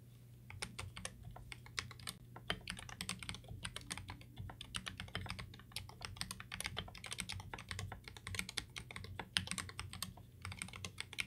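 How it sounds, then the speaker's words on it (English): Steady, rapid typing on a GK64/GK61 keyboard before modification fills the whole stretch, a dense run of clicky keystrokes heard up close with no talking. "So we'll start off with a quick sound test of the old keyboard."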